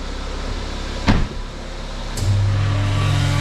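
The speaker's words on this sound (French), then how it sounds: "on démarre le véhicule, on laisse sur P, frein de parc" A BMW X3 F25 with an eight-speed automatic gearbox starts, in Park with the parking brake on: a short mechanical whir and a clunk, then the engine settles into a steady low idle.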